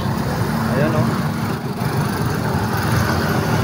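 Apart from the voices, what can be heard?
road traffic and idling engines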